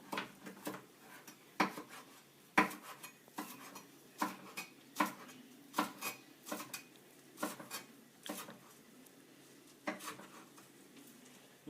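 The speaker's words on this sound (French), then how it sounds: "Je vais hacher la coriandre." A knife chops fresh coriander on a board in a kitchen, giving a series of sharp, irregular taps close by with short pauses between bursts.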